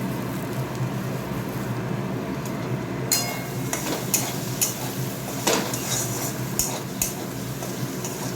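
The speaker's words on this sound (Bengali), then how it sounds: "একটু ভাজা ভাজা হোক এবারে, আর কাঁচা লঙ্কা দুটো গোটাই দিয়েছি" Egg, potato and onion fry with whole green chillies in a pan, a steady close sizzle running throughout, with sharp utensil clinks and stirring scrapes joining in over the last few seconds.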